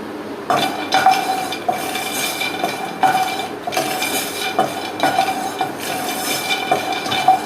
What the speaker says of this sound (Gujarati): અહીં આપણે સિંગદાણા એડ કરીએ